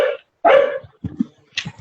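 Pet dogs at home let out a loud close bark followed by softer yips and whimpering sounds, with a final short bark at the end.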